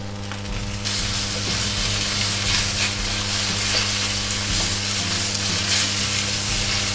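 Onions and bean sprouts for beef chow fun hit a hot wok and sizzle loudly and steadily, with an electrical hum running underneath.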